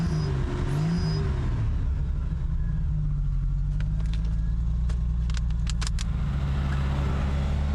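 A large engine from an abandoned monster truck idles and runs with a steady, deep, loud rumble, along with a few brief clicks and rattles close by and no talk.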